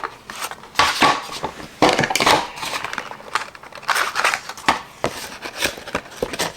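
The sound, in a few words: heart punch cutting heart shapes from card material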